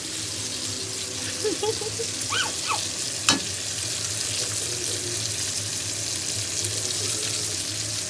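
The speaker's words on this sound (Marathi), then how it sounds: "आपली मच्छी बघा कशी फ्राय होती आहे" Fish frying in a pan with onions for a mackerel and prawn chutney, a steady close sizzle running throughout with a brief clink partway.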